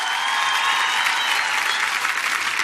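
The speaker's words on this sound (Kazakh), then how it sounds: "Шапалақтарыңыз!" Sustained audience applause fills a hall at a Kazakh comedy contest, dense and steady clapping with no talk over it.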